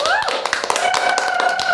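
Audience applause for a speaker's introduction at an event, a dense run of close, rapid hand claps mixed with voices and a lingering tonal sound underneath.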